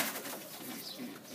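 Australian pigeons coo softly in a loft over a noisy background, the low calls faint and repeating irregularly.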